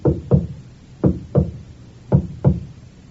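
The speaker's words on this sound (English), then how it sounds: "There's a discreet knock on the door at the front of the shop." A discreet knock on the front door of a shop, a radio drama effect: three pairs of firm, hollow wooden raps evenly spaced, close and alone with no talk.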